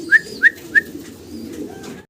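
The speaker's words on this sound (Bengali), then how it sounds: "বার হোমা কবুতর, দেখেন ইয়েলো কালারের" Homing pigeons, a yellow-coloured pair of large birds, give three clear, close coos in a steady rhythm, followed by softer calling, with no talk.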